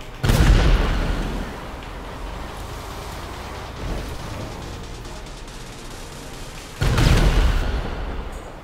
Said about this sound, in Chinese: 啊，可以发射大炮。